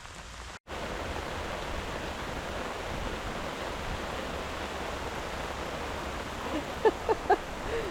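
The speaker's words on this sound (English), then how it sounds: "It's pouring." Pouring rain in a garden, a dense steady hiss close by that fills the whole stretch after a brief dropout, with a few faint squeaky sounds near the end.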